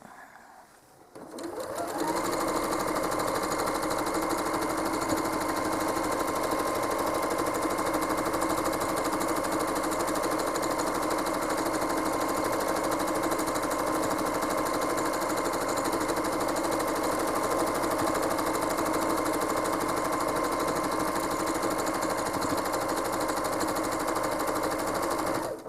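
A home sewing machine runs at full pedal while quilting a Primitive Gatherings Tilda throw with an ABC stencil. The needle chatters in a fast, steady, loud mechanical whir that holds unbroken for the whole stretch after a brief quiet start.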